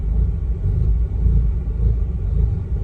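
A Mazda RX-8 rotary engine with an idling fault struggles to hold idle, giving a steady low rumble close by with slight surging in level and no voices.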